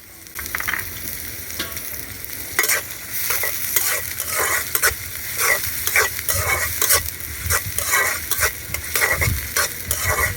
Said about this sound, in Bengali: এখন হচ্ছে পেঁয়াজগুলো দিয়ে দিলাম